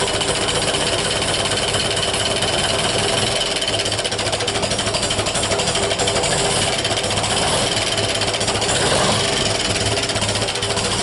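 A rebuilt 1948 Co-Op tractor engine runs steadily at idle after its rebuild, close and loud, with a continuous mechanical knocking clatter and no pauses.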